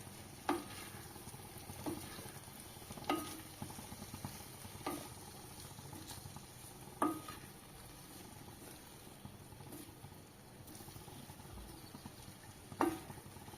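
Brinjal rice being stirred in a pan, with a soft steady sizzle underneath and a scrape or knock of the spoon against the pan roughly every two seconds, close and moderately loud, with no talking.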